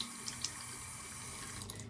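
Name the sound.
tap water running to wet a makeup brush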